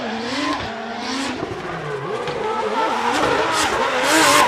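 A Lexus RC drift car screams through the Suzuka Twin Circuit during a drift competition qualifying run, its engine loud and close, revving up and down in repeated sweeps with tire squeal layered over the roar.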